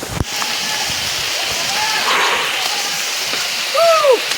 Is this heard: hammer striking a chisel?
no